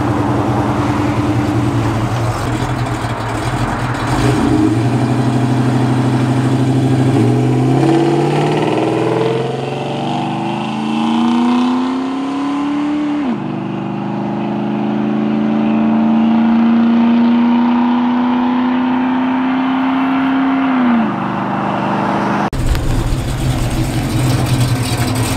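A drag racing car accelerating down the track, its engine rising in a loud revving pull, dropping back, then climbing again in a long sustained run before cutting off, heard fairly close with no talk.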